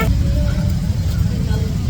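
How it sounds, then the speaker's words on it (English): Motorbike traffic jam on a road in the Philippines, a dense rumble of engines and road noise close by with voices and chatter mixed in throughout. "This is my first Filipino traffic jam."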